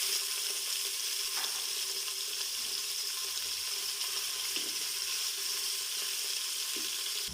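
Beef pieces sizzling in about half a cup of hot oil in a pot, a continuous bright hiss and crackle with faint clinks and bumps underneath, steady throughout with no talking.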